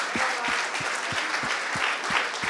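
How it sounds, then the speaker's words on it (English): Steady audience applause fills a room at a sales leader awards evening at a London hotel, dense and continuous, with a low rhythmic thump pulsing underneath throughout. "let's just have a final round of applause for each of you for making an effort to come tonight"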